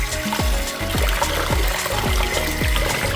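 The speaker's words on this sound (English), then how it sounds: "And then now we're going to pour this rice off." Rinse water pours off washed basmati rice in a bowl, a close, continuous trickling and splashing with repeated gurgling glugs as the liquid runs out.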